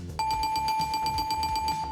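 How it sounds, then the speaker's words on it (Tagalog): An alarm clock sound effect on a TV game show: a steady high electronic tone with rapid rhythmic pulsing ringing for about two seconds, loud and alone. "alarm clock ni Paolo"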